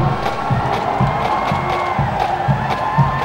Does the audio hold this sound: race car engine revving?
no